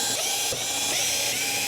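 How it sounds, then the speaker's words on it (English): A small electric screwdriver backs screws out of a TV mainboard, giving a close, steady whirring buzz with slight clicks that runs nearly unbroken through the short moment. "Now we can go ahead and remove the screws."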